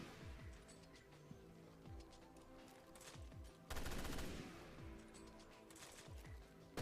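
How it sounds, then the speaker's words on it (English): Burst rifle gunfire in Resident Evil Revelations 2 Raid Mode, quick clusters of close, crisp shots repeating at short intervals, with one louder, heavier volley in the middle, no talking. "I'm going to use my burst rifle just to take them out"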